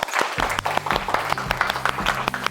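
Brief burst of audience applause at a talk on youth ministry, distinct individual claps merging into a lively patter, fairly close and loud, with no speech over it.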